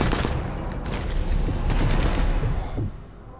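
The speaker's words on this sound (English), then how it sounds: "Oh boy, here we go, the gunshots." Gunfire and booming impacts in the shooter game Sniper Elite 4, a dense burst of overlapping shots and rumbling blasts that fades near the end.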